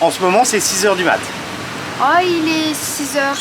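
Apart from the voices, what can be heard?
None of the usual background noises is heard.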